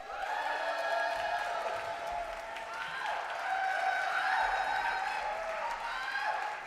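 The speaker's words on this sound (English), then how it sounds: "Won't you please join me in a rousing round of applause for my sister" An audience at an annual New Year's Day poetry marathon applauds and cheers, with fairly faint clapping and scattered whoops mixed with voices calling out, the noise swelling midway and staying steady throughout.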